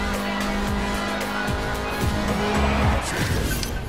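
Forza Horizon 4 race car engine roaring loud and steady with rising and falling revs, tire squeal joining in as it corners hard.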